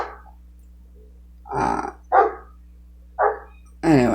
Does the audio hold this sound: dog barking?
yes